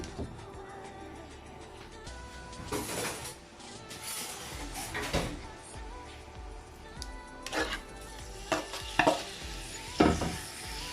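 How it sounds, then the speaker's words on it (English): Bite-sized chicken fillet pieces seasoned with salt and pepper being stir fried in a pan: a soft, steady sizzle broken by scraping spatula strokes and a few sharper clacks against the pan, close and without talk. "So I'm going to stir fry this until it's lightly brown."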